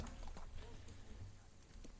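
In Kingdom Come 2, a black horse from the first DLC trots steadily, its hooves making a soft, continuous clip-clop under a dense game mix with faint talk.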